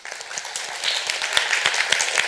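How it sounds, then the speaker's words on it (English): An audience at a talk on myths and legends gives a round of applause, with crisp individual claps in a modest, lively patter that builds slightly and carries on steadily. "Can we give Rick a round of applause?"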